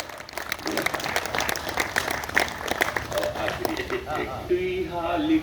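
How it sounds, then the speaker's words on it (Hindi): An audience at a Hindi kavi sammelan poetry gathering in Behta Kalan breaks into brisk, close applause that thins out after about four seconds, with a voice coming in near the end. "एक बार जोरदार तालियां"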